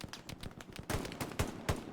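Machine gun fire in the WWII shooter Hell Let Loose crackles in rapid bursts of sharp, evenly spaced shots, moderately close, with a few heavier reports near the end.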